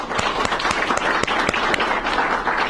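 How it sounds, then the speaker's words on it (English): Audience at a community forum applauding the candidates, loud steady clapping from a room full of people with a few distinct nearby claps punctuating the wash. "we owe all of them a round of applause before we start"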